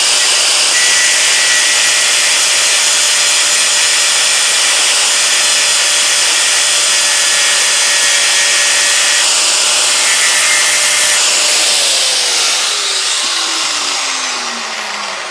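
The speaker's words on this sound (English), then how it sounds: "So I've just got to get the grinder" An angle grinder cuts the top off a chain link on a vintage mini tractor, a loud, steady high-pitched grinding whine running continuously, then dropping in pitch and fading slightly near the end as the tool spins down.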